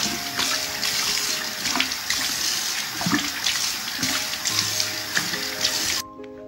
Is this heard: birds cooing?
no